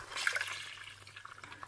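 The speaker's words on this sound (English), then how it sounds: "Then we're gonna add more water" Water poured into a pot of Moroccan harira soup on the stove, a brief splashing gush at the start that fades into quieter trickling, close and alone.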